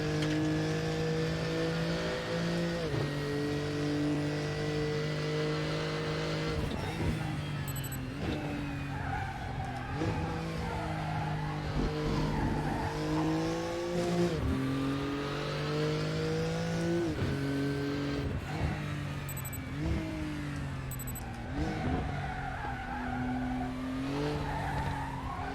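Race car engines rev and whine through gear changes while tires squeal and skid in RaceRoom, continuous and loud with rising and falling engine pitch.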